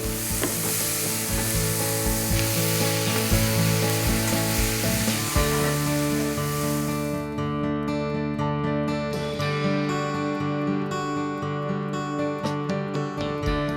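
Shrimp hitting a hot pan with garlic and chili, giving a loud, steady close sizzle that keeps going with some stirring clatter and no voices.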